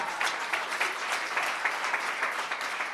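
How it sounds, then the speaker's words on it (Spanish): A church congregation applauds together, a dense steady wash of many hands clapping at moderate loudness that holds throughout without speech. "Den un aplauso a él."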